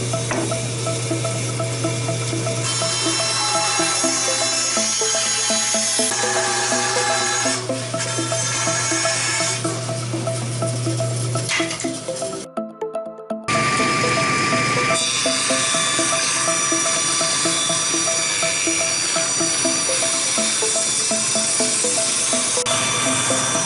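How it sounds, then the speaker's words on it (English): A bandsaw cuts out a wooden dagger board for a small wooden boat, giving a continuous hissing, rasping sound that stops briefly at one point and then picks up again. No one talks while it runs. "I'm just going to cut this out on the bandsaw."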